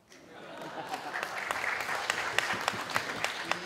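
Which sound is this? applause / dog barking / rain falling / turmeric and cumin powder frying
applause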